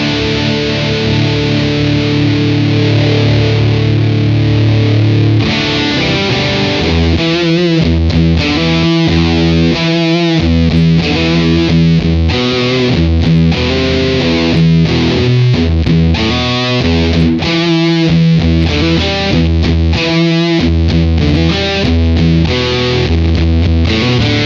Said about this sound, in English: One thing I do want to try is a fuzz.